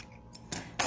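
Scissors snip a small notch into fabric during sewing, two quick crisp cuts close to the mic after a softer faint tick, with no talking.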